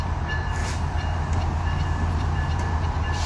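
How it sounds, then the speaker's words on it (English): A Metrolink commuter train passing along the tracks beside the LA River, a loud, steady rumble and roar filling the whole stretch with faint clanks on top, no voices. "super noisy with Metrolink here"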